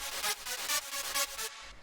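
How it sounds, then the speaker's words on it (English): A wide stereo supersaw synth layer from Ableton's Wavetable synthesizer in a techno track, playing bright, buzzy chords in a pulsing rhythm of short repeated stabs, with no voices. "You can see I've got a super saw here inside of wavetable."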